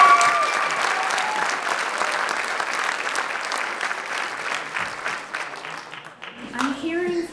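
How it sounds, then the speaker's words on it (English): Debate audience at a film incentive debate bursting into steady applause with scattered cheers for several seconds, fading near the end as a voice begins to speak. "please keep your applause and cheers to a minimum, no matter what side you're on"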